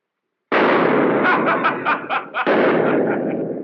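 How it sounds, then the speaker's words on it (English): Gunfire from a 1933 film erupts after silence as a loud, harsh burst, then a rapid string of shots blurs together before a second heavy blast with a long ringing tail. "Fire again! Empty your gun!"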